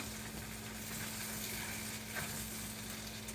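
Pad thai being stirred in a hot pan gives a constant hissing sizzle with faint scraping, close but fairly soft, over a short stretch without voices.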